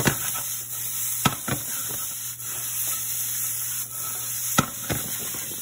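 Vegetables sizzle steadily in a hot pan with a constant hiss while a wrist toss shifts them, adding a few sharp clacks and scrapes, close and alone without talking.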